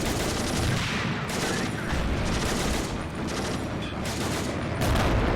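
Dense, continuous gunfire mixed with heavier tank and armored car cannon shots in Men of War: Assault Squad 2, set in the 1944 German counterattack at Caen, forming a loud, busy battle din with overlapping bursts and booms.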